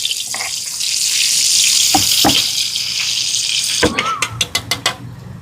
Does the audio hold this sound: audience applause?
no